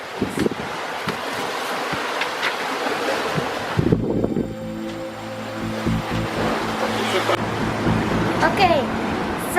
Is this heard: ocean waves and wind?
yes